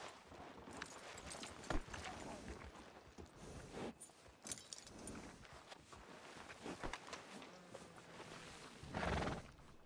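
Horse hooves clip-clop in an uneven walking rhythm in the video game Red Dead Redemption 2, with a horse whinnying and snorting nearby, heard alone without talk.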